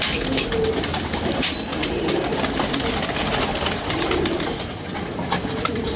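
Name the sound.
pigeon cooing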